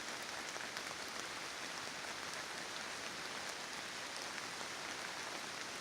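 Steady rain falling through a forest, a dense, continuous patter of drops on leaves and ground that stays even and close throughout, with no voices.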